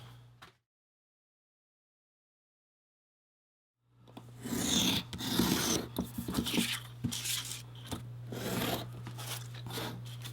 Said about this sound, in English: So let me get this pattern cut out and we'll get started.